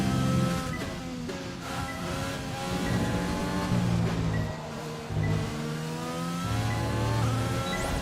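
Race car engine at a steady high drone with harmonic bands that drop sharply several times as it downshifts through a corner, loud and continuous with no talk.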